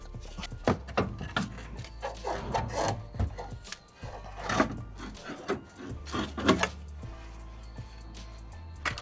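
Metal car suspension parts clunk, scrape and rub as an upper control arm is wiggled free of its mounts after the bolts are removed, with irregular close knocks and grinding strains over several seconds.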